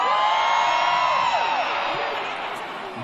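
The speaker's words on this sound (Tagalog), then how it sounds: "damang-dama namin ang lakas ng inyong mga sigawan" Crowd at an outdoor campaign rally shouting and cheering, a dense sustained roar of many voices with overlapping whoops, loud and continuous.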